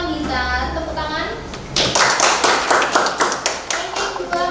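Audience applause for the first-place winner at a culinary teaching performance assessment, breaking out after a spoken announcement and continuing as a steady, fairly loud wash of clapping with scattered sharp claps.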